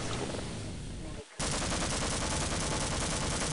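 Gunfire in the game Half-Life: after a brief pause, a dense, loud stream of rapid shots fills the remainder, continuous and close.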